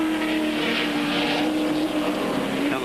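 A 1982 AMSCAR race car, Ron Dixon's number 12 Barbecues Galore entry, roars at full throttle at Amaroo Park, a loud continuous engine note holding steady as it passes.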